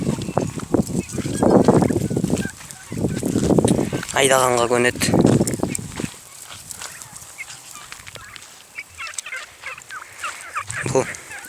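Turkeys on a farm gobble in a burst of rapid rattling calls, with bursts of nearby talk before and after.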